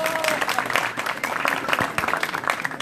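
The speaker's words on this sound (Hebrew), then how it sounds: "כפיים רבותיי" Crowd applause at a religious gathering in a moshav near Netanya: brisk, uneven clapping from a group of people, fairly close, with voices talking over it.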